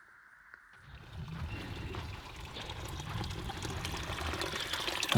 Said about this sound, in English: getting some water for making some tea.